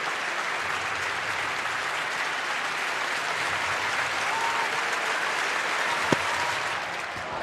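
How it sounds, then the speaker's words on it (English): Steady dense applause fills an indoor arena at a women's high jump meeting, the Müller Indoor Grand Prix in Birmingham, loud and continuous throughout, with no voices standing out and a single sharp knock near the end. "The crowd will have to keep that rhythmic clapping going."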